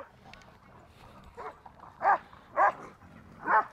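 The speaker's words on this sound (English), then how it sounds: "if you start hearing dogs barking in the background, that's why." Dogs bark at a busy outdoor dog park in downtown Los Angeles, with three loud, separate barks spaced about half a second to a second apart, preceded by softer yips and whimpers at moderate distance.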